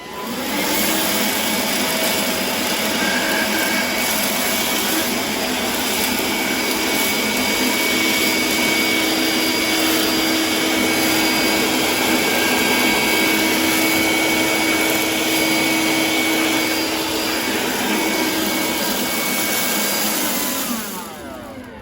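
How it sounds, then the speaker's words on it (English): A Bosch BHN24L handheld vacuum cleaner sucks up spilled oats and rice, its motor whining loud and steady for about twenty seconds before shutting off. "really nice and easy for the hoover to, for the vacuum to hoover all the oats and rice"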